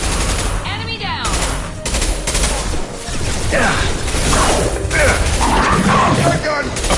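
Shotgun blasts and weapon clatter from the combat of Mass Effect 2, sharp bursts repeating through a busy mix of battle noise and mechanical clicks, with voices talking over the fight.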